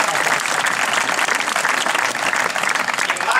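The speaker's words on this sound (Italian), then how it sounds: "Un grande applauso per Pedrini." Dense, even audience applause for a player at a bocce tournament in Bovegno, continuous and fairly loud from start to finish with no talking over it.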